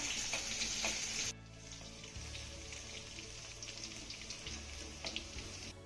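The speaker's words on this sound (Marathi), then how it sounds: "आता हा लसूण आपल्याला अर्धा मिनिट चांगला परतून घ्यायचा आहे" Crushed garlic cloves fry in a pan with a steady, soft sizzle and hiss, fairly quiet and close, with faint clinks from stirring and no talking.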